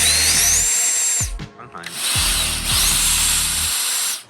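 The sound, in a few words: power drill drilling hinge holes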